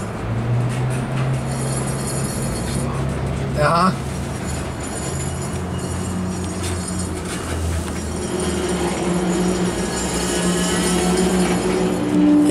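Railroad cars roll along the track with a steady low rumble and rhythmic wheel clatter, a brief squeal in the middle, while people talk over it throughout.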